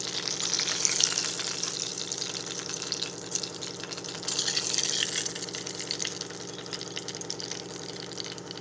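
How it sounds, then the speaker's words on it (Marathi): A hot mustard-seed and chili tempering sizzles as it is poured into a chutney, giving a steady hissing crackle that stays even and fairly quiet with no talking. "फोडणी ह्याच्यात पण टाकून द्यायची चटणीमध्ये."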